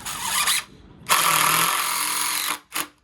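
A power drill drives 3-inch construction screws into wood while a mailbox is built, giving a loud close whirring squeal in bursts: a short run, a longer sustained drive, then a brief final spin.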